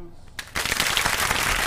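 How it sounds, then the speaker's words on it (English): A live radio stream audience breaks into applause after quiet, dense clapping rising abruptly and continuing steadily and loud to the end. "And I want to give all of y'all a round of applause."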